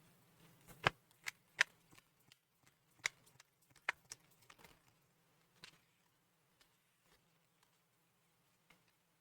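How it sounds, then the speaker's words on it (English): Oracle cards being shuffled and handled during a tarot reading, a scattered series of soft, close, crisp taps and flicks, busier at first and thinning out later, with no talking. "Let's pull a few more oracle cards."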